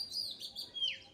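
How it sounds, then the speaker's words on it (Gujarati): Birds chirp in the morning outdoors: a quick run of bright, high tweets, close and clear, with no other sound over them. "મસ્ત મજાનું પંખીનો કલરવ છે"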